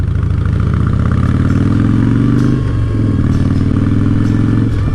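A motorcycle engine running loudly and close by, a steady throbbing idle with a slight dip and recovery in revs midway, with no voices over it.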